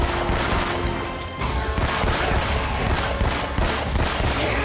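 Sustained gunfire in Uncharted: Drake's Fortune, a rapid, dense fusillade of automatic shots rattling on without pause at close, loud range.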